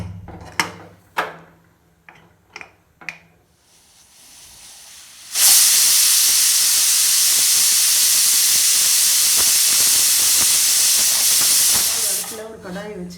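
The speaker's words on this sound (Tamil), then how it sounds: "குக்கர் மூடி ஒரு 5-6 விசில் விடணும்." A pressure cooker holding ven pongal lets out its whistle. A few sharp clicks and knocks come first, then a loud, steady rush of escaping steam hisses for about seven seconds before it stops.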